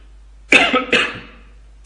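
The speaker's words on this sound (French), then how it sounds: "Excusez-moi, je tousse un peu" Two harsh coughs close together, loud and near, followed by a short quiet tail with a faint breathy sound at the end.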